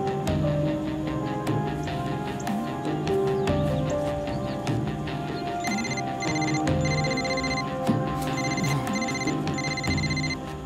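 A telephone rings repeatedly in a tense drama scene, with regular bursts of ringing tones standing out over a dense bed of background music and ambient sound, moderately loud throughout.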